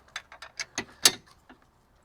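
A wrench ratchets a transmission plug on a 2014 Honda Pilot during a transmission fluid change, giving a series of quiet, close metallic clicks at a steady rhythm that slows and tapers off.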